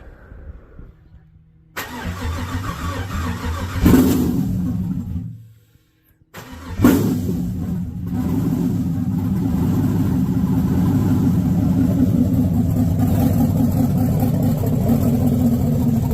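A 6-liter LS V8 swapped into a 1992 Chevrolet S10 cranks, cuts out briefly, then fires and settles into a steady, loud, lumpy cammed idle that runs on without talk.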